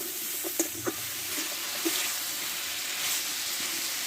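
Snake gourd fries slowly in oil in a pan without water, giving a soft, steady sizzle with a few light stirring taps early on, moderately quiet and continuous.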